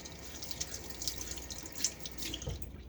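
Tap water runs steadily onto a shaving brush at a sink, a soft continuous splashing and trickle with small drips, fairly quiet and close, with no talking.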